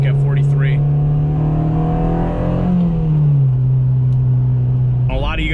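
A 2007 Honda Civic Si with about 200,000 miles, its engine droning steadily and climbing in pitch into VTEC, loud and close from inside the car, with brief voices at the start and end.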